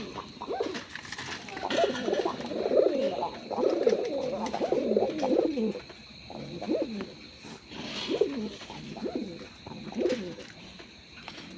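A pair of native pigeons coos in a steady series of throaty, repeated calls, close and moderately loud.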